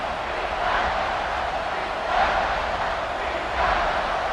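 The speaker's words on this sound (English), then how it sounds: "This crowd is trying to inspire this defense to make a big red zone stop." A stadium crowd roars in the Madden 26 American football game during an LSU vs Clemson red zone play. The cheering is a steady, dense wash of noise that swells twice, heard alone.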